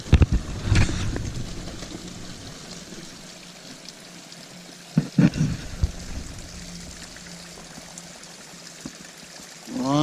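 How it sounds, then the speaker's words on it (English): Water trickling and dripping beside a hiking trail, a continuous soft running wash with a few sharper splashes and bumps, heard outdoors without talking. "Lots of trickles and drips."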